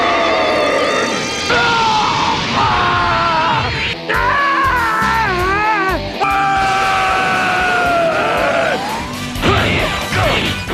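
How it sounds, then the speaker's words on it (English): Loud, strained shouting and screaming from fighters in the Dragon Ball Z Budokai video game on GameCube, layered over harsh crashes and impact smashes with warbling energy-beam tones, continuous and dense throughout. "why is there so much screaming?"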